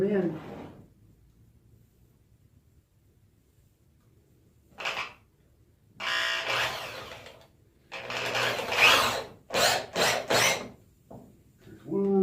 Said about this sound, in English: So you just get your drill and screw them in.